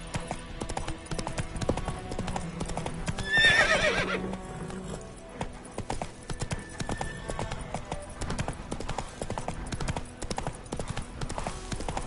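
A horse gallops steadily in The Witcher 3: Wild Hunt on PS5, its rapid rhythmic hoofbeats loud and continuous, with a whinny partway through over a game soundscape.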